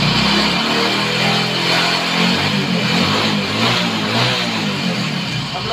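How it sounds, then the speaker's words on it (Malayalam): An old used car's engine is revved in the open, a loud sustained mid-pitched roar that rises and eases repeatedly without any talk. "ഒരു വണ്ടി സ്റ്റാർട്ട് ചെയ്ത് നോക്കിയിട്ട് ചെറുതായിട്ട് പെട്ടെന്ന് റൈസ് ചെയ്യരുത്"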